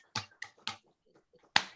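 A few scattered claps from webinar participants applauding panelists over their microphones, three quick sharp hits followed by a pause and one louder final clap, close and dry.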